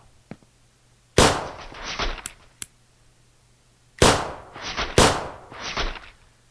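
A custom weapon in the ATPS game fires a slow-moving projectile, with sharp crack-like shots arriving in separate groups, each followed by a shorter echoing burst, and near silence in between.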